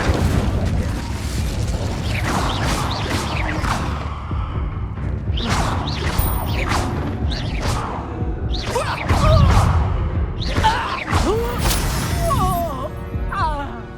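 Incendio fire spell casts in Hogwarts Legacy, a series of whooshing flame bursts and muffled booms recurring every second or so amid busy battle noise, fairly close, with some brief voices mixed in.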